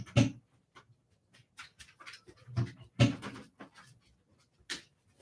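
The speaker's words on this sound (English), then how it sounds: "So there really is a dog in the background wanting to come in." A dog wanting to come in, heard in the background of a home livestream: a few panting breaths and whimpers with scattered knocks and scrapes like a door or cupboard, close but fairly quiet, with no talking.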